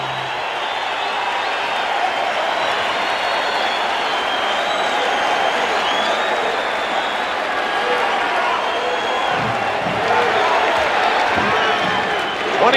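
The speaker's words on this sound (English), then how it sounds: "Crowd begins the celebration now." A basketball arena crowd cheers and applauds during a Lakers–Pistons NBA Finals game, a broad continuous roar with swells of clapping, while a commentator talks over it.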